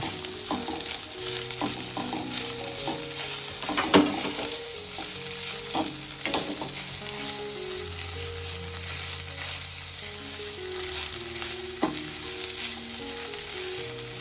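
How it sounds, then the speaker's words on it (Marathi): Fresh grated coconut sautéing in ghee for coconut rice, a steady low sizzle with scattered scraping stirs and occasional sharper clinks against the pan, continuous and close with no talking. "आता लगेच आपण ओला खोबरा आहे तो पण परतून घेऊ"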